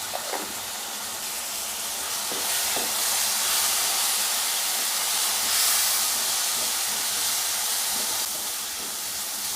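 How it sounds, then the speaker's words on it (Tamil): Masala spices with Kashmiri chilli powder and turmeric frying in a pan for a mushroom gravy, giving a steady, loud sizzling hiss throughout with a few faint clicks of stirring. "நல்லா மசாலாலாம் அதில் போட்டு பரட்டியாச்சு."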